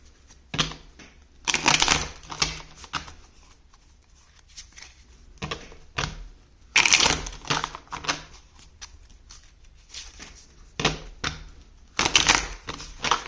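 Tarot cards being reshuffled by hand, with bursts of crisp riffling and slapping at irregular intervals separated by quieter pauses, close and fairly loud.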